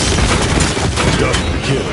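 Rapid heavy gunfire from a big gun in the video game Paladins, dense and continuous bursts filling the whole stretch with some voice mixed in.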